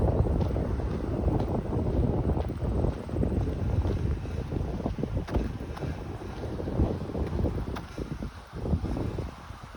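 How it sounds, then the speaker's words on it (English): A breeze blows across a pond in a conservation area in Whitchurch-Stouffville, Ontario, in summer, giving a constant, close wind rush and buffeting against the microphone with no talking. "I can feel a breeze right now, which is nice."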